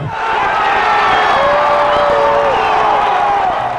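A sellout crowd of 45,000 at the Devil Rays' first game cheers in a loud, continuous roar, with whoops and scattered claps rising from the packed stands.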